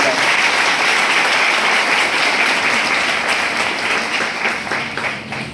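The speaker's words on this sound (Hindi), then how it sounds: "आप सबसे गुजारिश करूंगा एक जोरदार ताली बजाएं" A large audience at a public event applauds loudly and continuously, the dense clapping holding strong before tapering off slightly toward the end.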